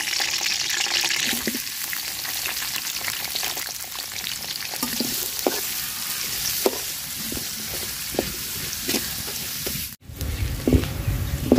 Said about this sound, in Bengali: তো পেঁয়াজ রসুনটা আমি সুন্দর করে ভাজা নিছি